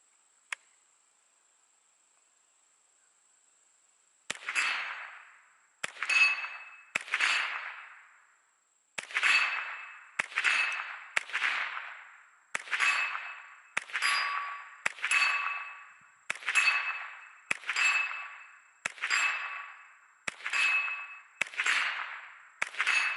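Rifle shots from a Ruger 10/22 hitting steel gong targets, roughly fifteen sharp metallic rings in a fast, steady series, each decaying briefly, after a quiet opening with a single faint click.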